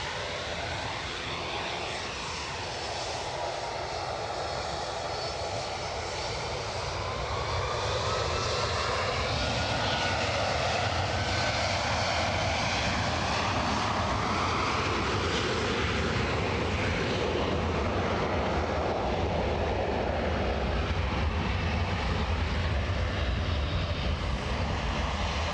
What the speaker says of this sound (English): Might get a bit noisy, team, with the Norwegian 737, these two RB11s that you see in front of you, and an ATR a little bit further back.